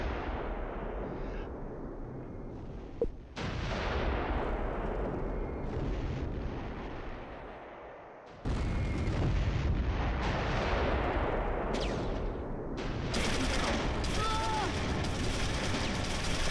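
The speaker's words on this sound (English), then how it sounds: "Mortars are coming in." Mortar rounds land in a Close Combat III battle, a dense, continuous barrage of booming impacts and crackling gunfire with sharp new bursts partway through, loud and sustained throughout.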